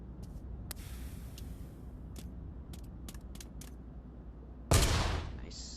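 A single loud grenade blast goes off in the Pavlov VR shooter at a gun range, a sharp broadband burst with a decaying tail, preceded by a few faint clicks and handling noises.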